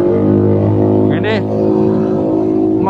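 A Keeway SCR 250 motorcycle fitted with a Rez Speed aftermarket exhaust idles and revs close by with a deep, steady engine drone and a brief higher-pitched sweep partway through.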